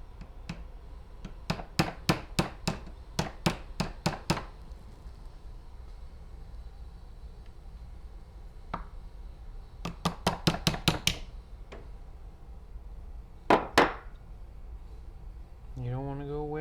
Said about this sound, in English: I'm going to use the more blunt end of the hammer and kind of knock down that sharp edge just a little bit.